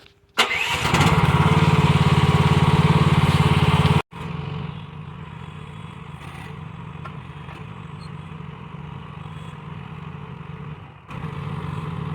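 A Huayee HY12C small engine is full of oil. It cranks and catches with a sharp start, then a loud, steady run that drops after a sudden cutoff to a quieter even idle, which rises again near the end.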